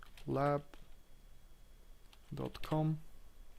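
A domain name is typed on a computer keyboard as a few sparse, soft key clicks between stretches of a person speaking.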